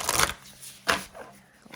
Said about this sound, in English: I'm going to shuffle just a couple here